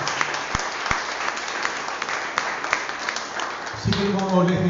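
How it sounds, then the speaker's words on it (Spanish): Clapping from a church congregation runs steadily under a moderate crowd murmur, with a speaking voice entering near the end. "Vamos a dar un fuerte aplauso"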